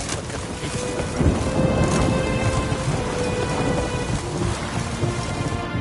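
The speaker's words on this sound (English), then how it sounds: "Storm, damn it." A thunderstorm in The Witcher 3 video game: steady heavy rain hisses on surfaces while thunder rumbles underneath, loud and continuous throughout, with no one speaking.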